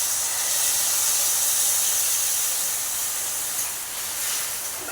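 Water poured into a pan of sizzling okra and poppy-seed curry (bhindi posto) sends up a loud, steady steam hiss that holds evenly and eases slightly toward the end, with no talking.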